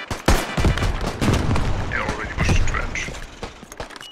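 A grenade blast in the Beyond The Wire first-person shooter: a sharp, loud bang early on, followed by scattered gunshots and battlefield noise, with voices talking over the fighting.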